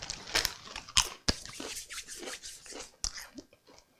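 Walkers Smoky Bacon crisps crunched close up, a series of sharp, irregular crackling bursts with short quiet gaps between them and no talking.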